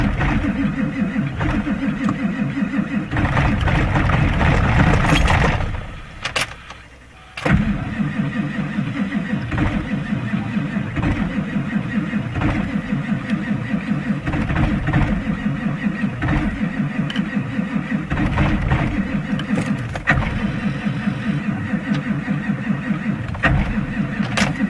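A 1997 Ford F350 with a 7.3 PowerStroke diesel and a stuck starter, grinding and cranking in a continuous, laboring rhythm for most of the stretch, cutting out briefly before resuming, close and loud.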